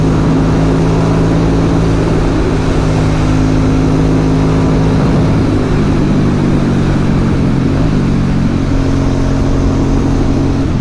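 An Aprilia Dorsoduro 750 motorcycle engine and exhaust drone loudly and steadily while riding, a constant close roar with wind noise and small shifts in pitch.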